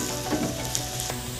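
Onion frying in oil with cumin seeds and ginger garlic paste sizzles steadily and close, with a soft scrape of stirring and a small tap partway through.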